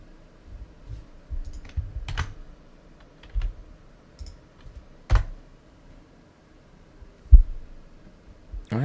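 Computer keyboard typing at a desk during level building, with sparse, irregular key clicks and a few sharper taps separated by quiet gaps, close and fairly soft over a low hum.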